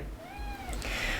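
A pet cat meows and yowls insistently at close range, a rising-falling harmonic cry followed by a brighter, strained wail, heard alone indoors.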